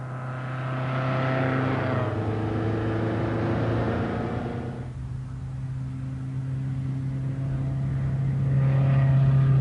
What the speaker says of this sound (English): This car is a 1962 Lotus Elite. It has a 1216 Coventry Climax engine